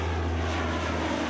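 A Hercules aircraft flies off with a loud, continuous engine and propeller roar that fills the whole short moment.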